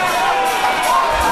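Loud, dense crowd noise fills a steel cage wrestling match at a Christmas event, a continuous roar of cheering with voices mixed in throughout.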